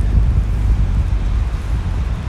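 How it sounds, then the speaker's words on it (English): Strong, cold wind buffeting the microphone on Park Row in New York, a loud continuous low rumble with gusty fluctuations and no voices. "That wind is picking up as we speak."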